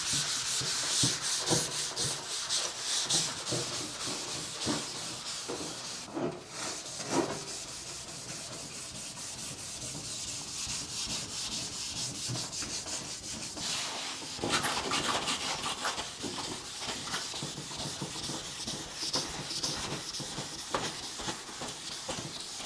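Hand sanding on a painted truck hood to knock off the shine, a continuous rhythmic scraping and rubbing with strokes going back and forth, close and steady with no talk.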